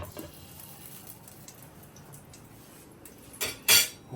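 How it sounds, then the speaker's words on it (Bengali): A lid set onto a kadai of frying bhetki fish, two quick metallic clanks near the end after a low, steady sizzle of cooking. "এবার ঢাকা দিয়ে দেবো"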